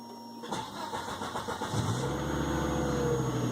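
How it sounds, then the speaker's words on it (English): A car engine cranks and fires up after a fuel pump repair, catching quickly and settling into a steady, close idle with no talk. "And the car fired right up."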